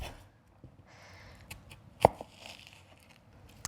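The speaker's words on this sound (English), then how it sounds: "And I'll also chop an onion" A knife cuts through an onion on a cutting board in a kitchen, a few sparse, irregular thin knocks and slicing scrapes with one sharper chop standing out, quiet and close with no talking.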